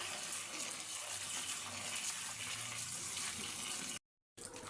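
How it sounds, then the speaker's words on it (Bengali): Running tap water gushes steadily over cauliflower florets being washed in a sink, a continuous close splashing wash that cuts out briefly near the end before resuming. "এখন এই ফুলগুলো একটু ধুয়ে নিব ভালো করে"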